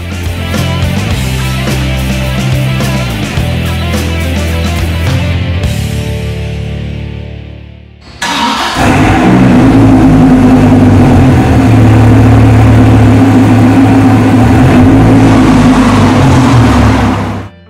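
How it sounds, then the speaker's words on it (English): 2002 Dodge Viper GTS coupe with a 450-horsepower 8-liter V10, loud and close: a sustained rev that drops off briefly, then a deep throbbing roar that holds steady before cutting out. "with a 450 horsepower, 8-liter V10, the sounds that it produces, you're never going to get tired of hearing those"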